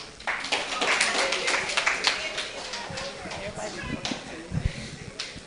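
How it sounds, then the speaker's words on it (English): An audience at an independence lecture claps in scattered, uneven bursts while a voice talks over the applause. "Give yourselves a round of applause, well executed."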